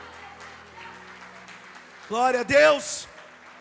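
A church congregation breaks into loud clapping during a worship service, a short burst of applause rising after a preacher's spoken exclamation and overlapping his voice.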